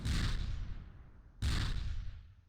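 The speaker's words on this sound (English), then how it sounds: "Sounds like cannon fire." Two heavy booms of cannon fire in the video game Close Combat: Panthers in the Fog, about a second and a half apart, each with a long rumbling decay.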